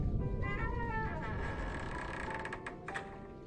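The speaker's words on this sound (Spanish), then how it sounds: "escucho que el ropero del cuarto de mi abuelo se abrió" An old wardrobe door creaks open in a house at night, a long, wavering wooden squeal that rises and bends in pitch for about three seconds, fairly loud and close, with no talking.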